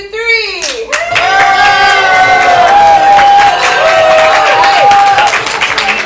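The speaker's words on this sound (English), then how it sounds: "Everyone else, try to clap, cheer, point." A live improv comedy audience claps and cheers loudly for several seconds, a dense crowd roar with shouts and whoops layered over steady applause and voices.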